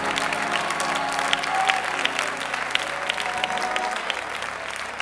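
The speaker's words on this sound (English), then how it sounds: "Give the Lord a hand clap of praise here today." Church congregation clapping their hands in praise during a service, a thick wash of steady applause with some sharper individual claps, a low organ-like drone and faint background voices running beneath it.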